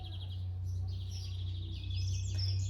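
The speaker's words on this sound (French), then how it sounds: "il y a plein d'oiseaux qui chantent" Many small birds chirp and twitter faintly in a town-centre garden, their high calls scattered over a steady low hum of background noise.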